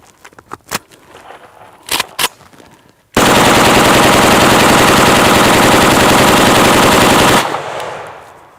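A gun rapid-firing a full magazine of Silver Bear ammunition in one dense, loud, continuous burst lasting about four seconds, preceded by a few scattered sharp clicks and handling noises, then an abrupt stop.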